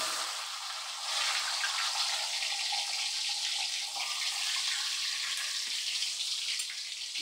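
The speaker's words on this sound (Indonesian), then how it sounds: "Kita goreng jengkol teman-teman." Jengkol beans frying in a pan for sambal jengkol, a steady, close hiss and sizzle of oil that runs on alone from about one second to the end.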